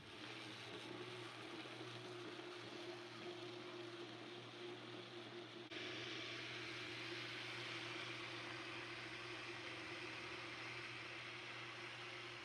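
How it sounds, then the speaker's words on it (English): A kitchen blender churns torn paper and water into pulp for seed paper, giving a steady, even motor hum with a sustained whine. It steps up slightly in intensity midway and runs without voices. "And now we blend it."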